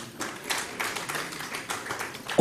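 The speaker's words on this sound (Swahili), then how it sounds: "Tuwapigieni makofi tafadhali." Scattered applause for farmers and seed savers at the launch of the Nakuru agroecology implementation framework, a few irregular claps from a small crowd, moderately faint and slightly distant.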